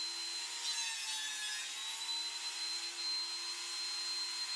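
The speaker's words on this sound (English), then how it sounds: "I'm going to quickly run it through my thickness planer on the shallowest of cut possible to try to remove that right away" A thickness planer takes its shallowest pass over glued-up wood boards, a steady high whirring, rasping hiss held at an even level throughout, close by with no talk.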